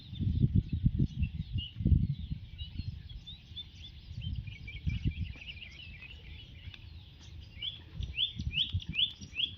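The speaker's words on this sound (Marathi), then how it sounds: "पक्ष्यांची किलबिलाट" Birds chirp repeatedly in the background, bright rapid tweets over louder low rumbling and handling noises nearby.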